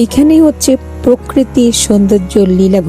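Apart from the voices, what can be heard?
No everyday noise stands out behind the speech.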